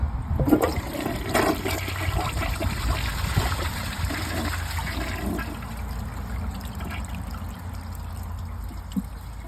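A Glacier Bay high efficiency dual flush toilet flushes with a rushing gush of water that eases into a long, steady trickle and refill, heard close and alone.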